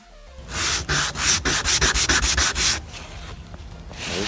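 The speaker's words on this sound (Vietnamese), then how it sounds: "Giờ thì mình sẽ khoan lỗ ở đây để mình làm cái tay quay nha các bạn" Power drill boring a hole through a bamboo shaft for the crank handle of a homemade bamboo baitcasting fishing rod, heard as a run of rapid, harsh grinding bursts up close, then easing off into a quieter rasp.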